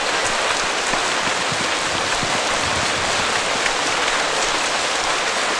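Steady, dense rain pours down in an even hiss from start to finish, loud and close, with no voices or other sounds.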